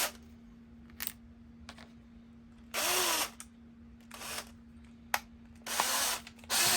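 Short bursts of a power drill whirring with a small drill bit on a toy car, stopping and starting several times over a steady low electrical hum, close by with quiet gaps between.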